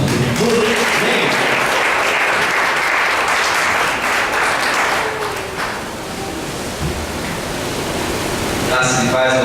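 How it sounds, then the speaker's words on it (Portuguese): A church congregation bursts into loud, sustained applause that fills the room, fading slightly midway and then swelling again, with a brief shift near the end. "Você pode aplaudir o Senhor Jesus."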